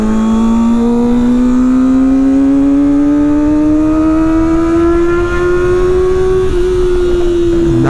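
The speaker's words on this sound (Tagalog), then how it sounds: "Yan ang quick shift ng ZX25R." A Kawasaki ZX25R motorcycle's four-cylinder engine screams close and loud, its pitch climbing steadily through a long pull, with a brief quick-shift blip near the end before it keeps rising.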